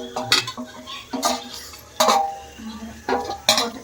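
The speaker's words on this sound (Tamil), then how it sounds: "போட்டுட்டு நல்லா இந்த மசாலாவோட பிரட்டி இதுவும் சேர்ந்து வேகட்டும்" Chicken tossed with masala in a pan, a spoon clanking and scraping against the metal in uneven bursts about every half second, close and fairly loud.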